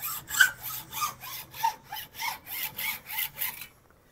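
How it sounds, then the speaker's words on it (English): A hacksaw cuts through a piece of wood clamped in a vise, about ten even back-and-forth rasping strokes in steady rhythm, close and clear, then stopping. "Your hacksaw does a nice smooth job."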